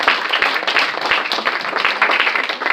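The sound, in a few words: congregation clapping hands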